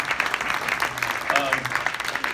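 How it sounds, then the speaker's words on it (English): An audience at a speaker event claps for a presenter, a short burst of brisk applause with voices and cheering mixed in close by. "All right, big round of applause for Matthew Thomas."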